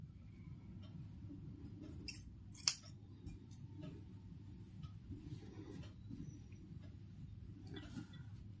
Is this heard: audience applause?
no